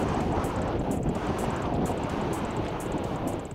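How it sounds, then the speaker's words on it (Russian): A strong south-westerly wind buffets the microphone in a steady, loud roar, with a faint rhythmic hiss like surf in the background. "Тем более, что дул как раз сильный зюидвест, то есть юго-западный ветер."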